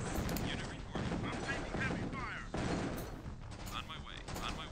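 Busy gunfire in the real-time strategy game Tiberian Sun, overlapping bursts and mechanical clatter from several units at once, loud and continuous with short breaks, mixed with game effects.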